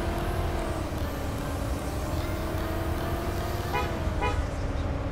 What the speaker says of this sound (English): I heard an air horn.